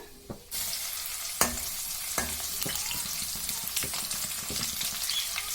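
Crushed garlic drops into hot oil for coriander chutney: a sudden loud burst of frying that settles into a dense, steady sizzle, punctuated by several sharp spatula clicks against the pan.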